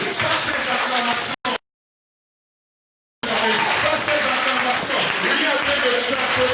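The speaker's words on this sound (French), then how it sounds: "Acclame très fort le nom de l'Éternel." A congregation at a divine healing seminar loudly acclaims and cheers as a dense wash of crowd noise, broken by a sudden gap of near silence before the roar resumes.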